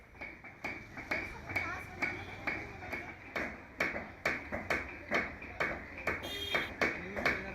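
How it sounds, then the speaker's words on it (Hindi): A hammer strikes metal over and over in a small artisan's workshop, each blow ringing sharply with a bright ping at a steady, even pace while a voice speaks underneath. "हथौड़ी की चोट में गजब की मशीनी ताकत है, जोर है, दबाव है, प्रेशर है।"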